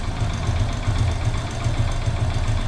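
A Hero Splendor iSmart motorcycle with the i3S start-stop system idles nearby, a steady, fairly loud low engine rumble with a regular knocking pulse throughout and no talk.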